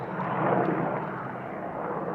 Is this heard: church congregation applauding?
no